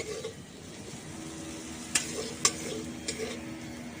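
A potato snack mixture is stirred and fried again in a pan after salt goes in, with a low steady sizzle and a few sharp clicks of the spatula against the pan. No voices are heard.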